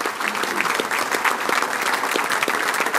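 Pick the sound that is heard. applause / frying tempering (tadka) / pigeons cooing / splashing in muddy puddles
applause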